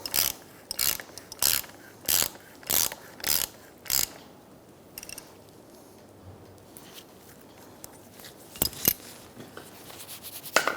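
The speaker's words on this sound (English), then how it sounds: "You're going to tighten down your nut." A ratchet tightening a strut mount nut on a 2002-2006 Toyota Camry gives rapid clicking bursts in a quick rhythm, six close runs, then a pause of quiet shop noise before a few more short clicks.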